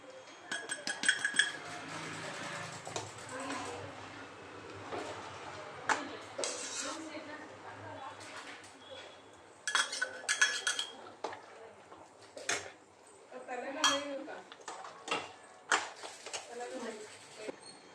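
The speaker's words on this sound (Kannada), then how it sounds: "ಅದನ್ನ ಹಾಕಿದ್ಮೇಲೆ ನಾವು ಕೈ ಆಡಿಸ್ತಾ ಇರಬೇಕು ಇಲ್ಲಾಂದರೆ ಕಚ್ಚಿಬಿಡುತ್ತೆ" A spoon clinks and scrapes against a pan while a flat-bean gojju is stirred with rice flour and garam masala; the metallic taps come in irregular bursts, with a person talking between them.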